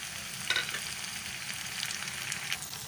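Tomatoes going into a pan of frying brinjal bharta, giving a steady close sizzle with a brief louder spatter and light stirring scrapes, no talking.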